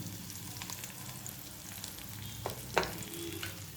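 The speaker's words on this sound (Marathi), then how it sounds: "आता या तेलामध्ये हळद घालायची आहे हळदीनंतर जो मसाला केलेला होता तो त्या तेलामध्ये घालायचा आहे" Turmeric and ground spice masala fry in hot oil for a brinjal dish, a steady close sizzle with occasional stirring scrapes and a clink near the end, no talking.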